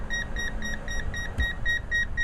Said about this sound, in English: So this Milwaukee, you'll notice there's going to be a beeping on this